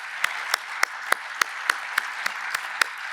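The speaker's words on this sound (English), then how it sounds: "So let's give them a round of applause." At the opening ceremony of a 50th anniversary summit, the audience applauds the marketing and executive teams. Sharp, evenly spaced claps beat in unison over a steady wash of scattered clapping from the crowd.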